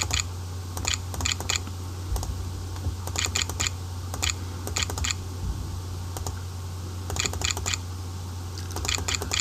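Typing on a computer keyboard, with bursts of quick, crisp keystroke clicks in short clusters over a steady low hum, close and moderately loud, no talking.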